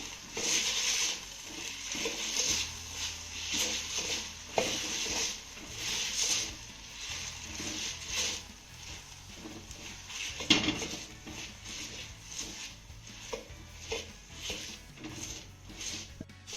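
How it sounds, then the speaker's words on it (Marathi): A copper lota coarsely crushes okra for a spicy thecha, making repeated soft dull thuds and scraping knocks at an irregular pace, close and fairly quiet, with faint clinks of metal against a dish. "भेंडी आपल्याला तांब्याच्या साह्याने जाडसर अशी रगडून घ्यायची आहे"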